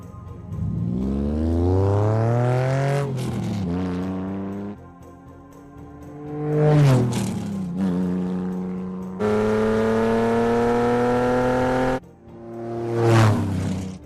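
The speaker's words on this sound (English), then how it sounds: "They captured the audio of a custom buggy that was fitted with a V6 engine tearing down a track" A custom buggy's V6 engine repeatedly revs up through rising gears, roaring loudly as it races past on a track, with brief drops between hard accelerations.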